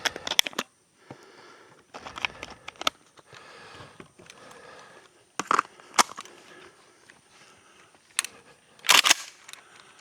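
A Vepr 12 short-barrel shotgun firing Black Aces shells at an outdoor range: several sharp, loud blasts spaced a second or more apart, each ending abruptly, with quiet stretches between them.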